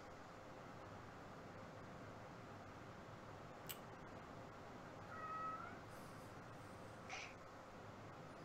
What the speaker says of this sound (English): I got distracted by my cat.